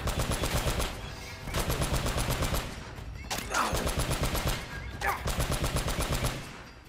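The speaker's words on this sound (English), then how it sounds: "You shoot at me now, buddy!" Bursts of automatic gunfire from the video game Uncharted: Drake's Fortune come in four rapid, loud volleys separated by short pauses, each a dense rattling string of shots.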